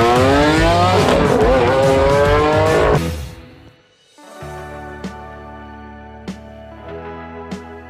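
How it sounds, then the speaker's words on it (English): A 2018 Lamborghini Huracán Performante Spyder revving hard in a loud climbing engine howl that cuts off abruptly, followed by a quieter steady idle hum broken by a few sharp clicks. "This is the 2018 Lamborghini Huracan Performante Spyder."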